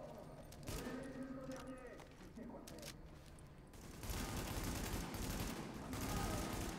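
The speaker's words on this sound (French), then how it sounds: "Où est-ce qu'il me tire lui?" Enemy gunfire rattles in the video game The Division, with bursts of shots and heavier sustained fire toward the end, mixed with game noise and a voice talking.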